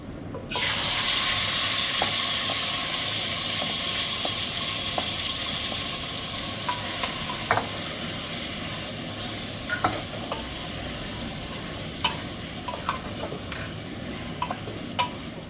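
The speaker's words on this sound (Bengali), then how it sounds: "এবার চিকেনটাও দিয়ে দিচ্ছি।" Chicken pieces for an Afghani korma hit smoking hot oil in a kadai with whole spices, a loud steady sizzle close up, with occasional utensil clinks and stirring as it settles.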